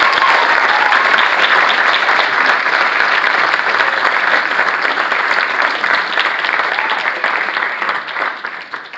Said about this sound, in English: I would like a warm round of applause for our guest speaker, Laura Seeples